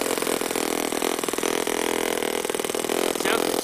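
A small four-stroke engine in an RC buggy with a short dump pipe runs loud and close, a buzzy, rapidly pulsing drone with slight rev changes, continuous throughout.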